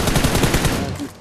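Rapid automatic gunfire in the PUBG Mobile battle royale game during an intense fight, a dense burst of repeated shots filling the clip loudly before easing slightly at the end, with no talk over it.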